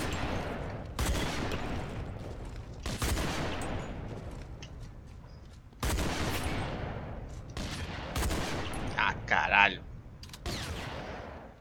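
Video game gunfire in an online multiplayer shooter, several sharp bursts of rapid shots cutting in and out, loud and close, with brief gaps of quieter game noise and a short electronic tone near the end.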